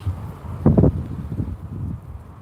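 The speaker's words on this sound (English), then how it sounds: "Cool, that was a bit of wind." A brief gust of wind buffets the microphone with a low, muffled rumble that peaks, then fades into softer bumps.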